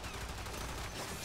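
Enemy gunfire in the video game Warframe, a dense, continuous burst of rapid shots that fills the short moment at steady loudness with no voices.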